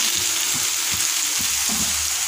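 Paneer tikka pieces sizzle steadily in a hot pan as they are flipped, a constant bright frying hiss with a few soft clunks from turning the pieces, close and loud with no voices.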